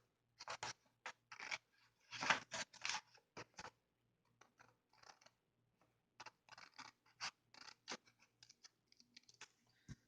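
Scissors snip through a slender, tapered strip of paper for making paper beads, a series of quiet, close crisp cuts and scratchy rustles coming in short clusters with brief pauses between them.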